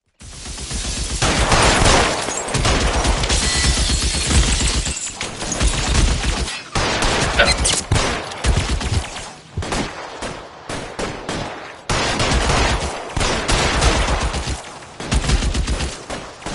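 Machine gun fire in the video game L.A. Noire: loud, close bursts of rapid shots broken by short silent gaps, repeating over and over.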